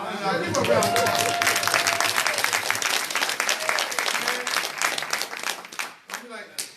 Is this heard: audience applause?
yes